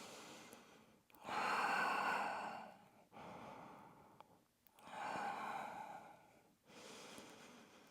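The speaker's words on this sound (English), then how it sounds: "3 deep breaths here" Slow, deep breaths taken while bent forward in a gentle pilates stretch, three long airy inhale-exhale cycles, close and soft, with no talking.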